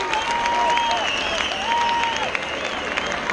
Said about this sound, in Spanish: se arriba ese aplauso, Orense,